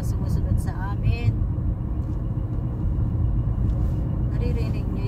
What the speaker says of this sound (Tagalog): Naririnig niyo yung sasakyan ko? Parang may something wrong.